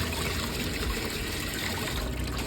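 Running water rinses cleaned surgical tools, making a steady close trickle and splash that lasts the whole moment, with no talking.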